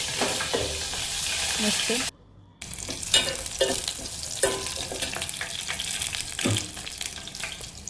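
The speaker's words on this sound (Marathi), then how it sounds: "त्या चांगल्या गुलाबी होईपर्यंत चांगल्या परतून घ्यायच्या." Crushed garlic cloves fry in a pan with a close, crackling sizzle and stirring scrapes. The sound cuts out briefly, then resumes with louder spoon knocks, and a voice speaks briefly.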